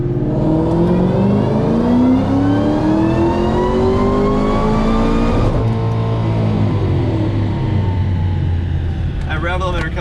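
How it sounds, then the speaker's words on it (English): A 2012 Shelby GT500 engine with a VMP Gen3R supercharger revs hard and climbs steadily in pitch until it hits the limiter, then holds a bouncing drone; a voice speaks briefly at the end. "That rev limiter comes up real quick."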